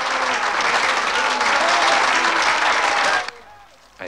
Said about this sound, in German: Silva, das Publikum rast.